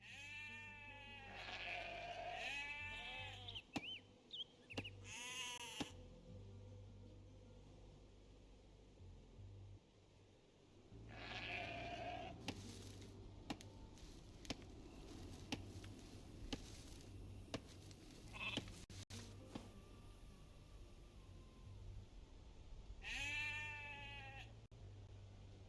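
Sheep bleating in the strategy game Age of Empires II, several wavering bleats in separate bursts over a low steady hum of game ambience, no talk.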